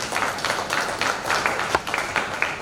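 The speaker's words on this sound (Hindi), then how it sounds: "जोरदार तालियां इनके लिए" Applause from the audience at a historical drama stage performance as an actor is called onto the stage, a steady wash of many hands clapping throughout.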